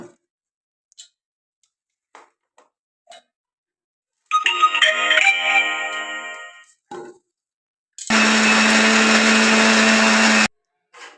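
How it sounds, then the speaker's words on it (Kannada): A mixer grinder grinding soaked ragi whirs loudly for a couple of seconds after a short buzzing run and a few light clicks; no one speaks. "ಇವಾಗ ಇದನ್ನ ಮಿಕ್ಸಿಯಲ್ಲಿ ಸ್ವಲ್ಪ ರುಬ್ಕೋಬೇಕು"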